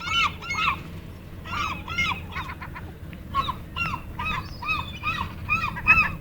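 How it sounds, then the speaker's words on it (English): Seagulls calling at Horseshoe Bay, a run of repeated honking cries close by and fairly loud, with several calls overlapping in quick bursts over steady outdoor background noise. "What are those seagulls doing, Paulina?"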